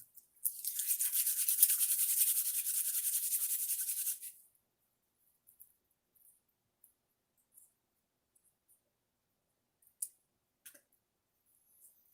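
Dry papery garlic skins rubbed off cloves over a trash can make a steady close scratchy rustle lasting about four seconds, followed by a few faint scattered clicks and taps.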